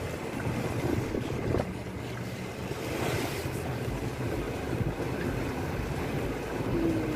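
A fishing boat at sea off Dwarka rides the waves, with a constant low rumble, wind buffeting the microphone and a broad wash of water heard close and steady throughout, with no talking.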